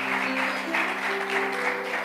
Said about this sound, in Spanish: Alguien dé un aplauso